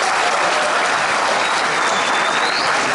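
A large convention crowd at a panel discussion applauds, producing a loud, continuous roar of clapping that fills the room evenly throughout, with no speech over it.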